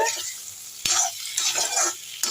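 Potatoes frying in hot oil for a quick potato fry, with a steady sizzle broken by several sharp spatula scrapes and clanks against the pan as they are stirred.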